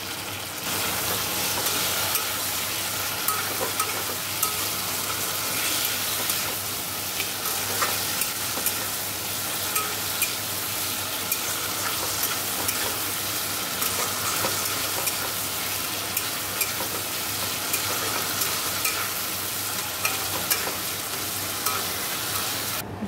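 Spices being stirred and fried in a pan with turmeric, cumin powder and a little sugar, a continuous close sizzle with regular scraping stirs throughout.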